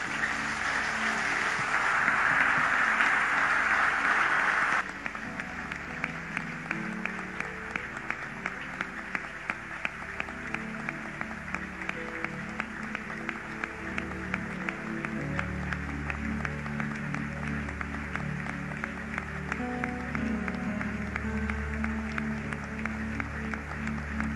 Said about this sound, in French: We are just going to clap our hands.